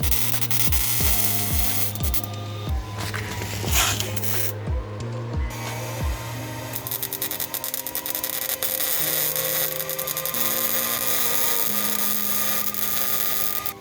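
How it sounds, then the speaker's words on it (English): A custom straight pipe exhaust for a Subaru 2.5RS rally car is welded, with crackling and buzzing welding noise under repeated percussive clatter early on and steady tool noise after that. There is no speech. "we're doing our last bits of welding and it's on"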